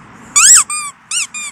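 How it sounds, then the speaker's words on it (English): A squeaky dog toy ball for a golden retriever puppy gives four sharp, loud squeaks in quick irregular succession, close up with brief gaps between them. "The squeaky ball."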